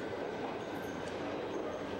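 A London Underground tube train runs with a continuous, fairly loud rumble and rushing roar, steady throughout with faint rattles and no voices.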